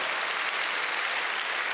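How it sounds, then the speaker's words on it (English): Sustained, dense audience clapping fills a comedy gala venue, steady and loud throughout with no break. "oh, you're clapping"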